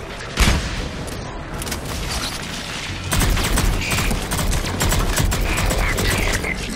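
Grenade blast and gunfire in the video game Mass Effect 3: a sharp boom early on, then dense rattling bursts of weapon fire that grow louder and keep going, with a brief shout before.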